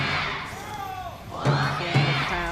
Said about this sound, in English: We can hear the crowd, hear the fans